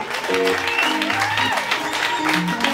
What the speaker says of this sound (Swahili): Pigia mkale makofi bwana